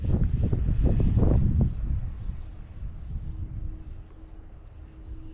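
Small radio-controlled F-86 jet built from depron foam making a fast low pass, a loud, close propeller-driven whine that fades after about two seconds into a fainter, distant hum, with wind noise and no talking.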